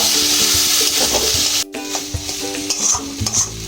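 Banana flower, prawns and grated potato sautéed together in a pan, loud continuous stirring and sizzling close by with scraping strokes, a brief drop out partway, no talking.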